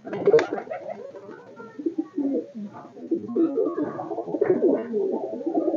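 Close Madrasi pigeon cooing rolls on in low, overlapping throaty phrases, steady and fairly loud, without speech.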